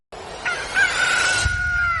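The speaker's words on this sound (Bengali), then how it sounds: "আর সকাল হতেই মুরগির কক ককানি" A cartoon rooster crows loudly and close, one drawn-out cock-a-doodle-doo rising after a brief silence and holding to the end.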